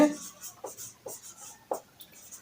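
Pen on paper as numbers are written by hand during a math lesson, a few short scratchy strokes in quick bursts, close and fairly quiet.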